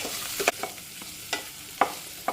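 Chopped shallots and two green chilies frying in a pan for okra theeyal, a faint steady sizzle broken by a few sharp scrapes and taps of a spoon stirring, with no voices.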